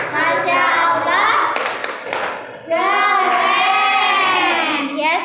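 Schoolchildren in an Islamic religious education classroom clap together to praise classmates' group work, a dense burst of hand claps mixed with children's chanting voices, close and loud.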